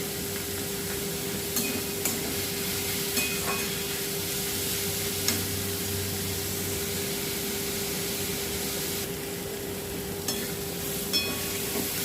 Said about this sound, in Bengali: বেশি লাল করে ভাজবো না, হালকা হালকা ভাজবো